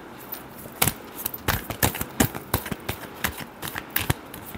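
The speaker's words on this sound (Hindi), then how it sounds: "Last shuffle." A deck of tarot cards being shuffled by hand up close, a quick series of crisp riffling snaps and flicks in an irregular rhythm, loud against a quiet room.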